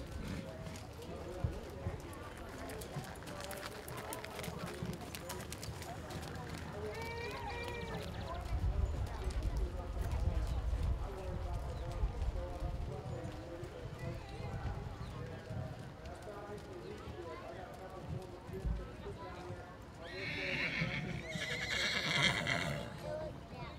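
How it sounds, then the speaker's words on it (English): Horses at a 4-H fair Western Pleasure class move about the arena, with a clear whinny and faint hoof clip-clop under an announcer's amplified voice and crowd noise. "Walk your horses, please."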